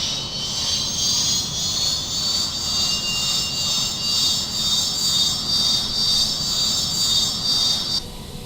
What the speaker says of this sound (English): Is that starting? I can hear it whirring, but I don't see anything happening.